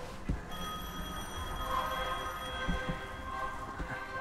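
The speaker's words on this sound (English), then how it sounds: "We have a phone call." A telephone ringing in the video game Devil May Cry 5, a faint, steady electronic ring with sustained tones running through the middle, heard quietly with no talk over it.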